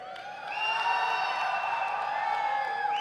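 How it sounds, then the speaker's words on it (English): An esports arena crowd at a Valorant tournament roars and cheers for Team Heretics, swelling quickly after a half-second and holding as a steady, loud wash of voices to the end. "Can we have a cheer for Team Heretics?"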